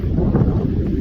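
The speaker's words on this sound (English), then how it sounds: "wow, it just got really windy" A brief burst of outdoor wind rumbling against the microphone, a steady low roar of moderate loudness with no speech.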